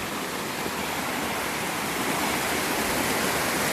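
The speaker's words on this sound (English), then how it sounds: "There's quite a bit of water coming through." River water rushes steadily through a woodland crossing, a loud, unbroken broadband roar with no other sounds.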